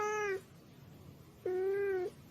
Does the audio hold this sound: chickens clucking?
no